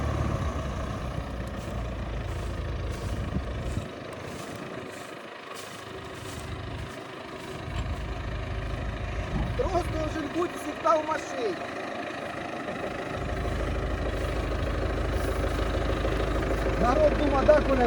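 A heavy tractor engine rumbles and idles nearby, dipping briefly in the middle before growing louder again, with people talking over it.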